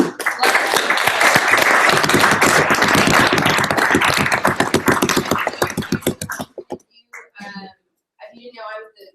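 Student senate members applaud in a meeting room, loud and close, with rapid dense clapping for about six seconds before it thins out and a voice speaks.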